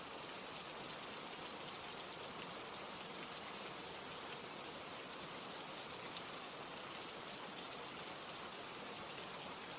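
Steady, dense rain hisses evenly and continuously, filling the space close around with a soft broadband wash and no voices.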